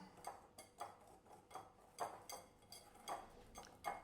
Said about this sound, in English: So I have my whisk. Just going to whisk that together.